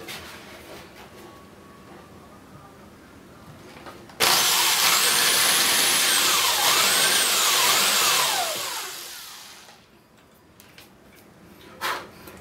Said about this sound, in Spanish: Voy a hacerle los orificios.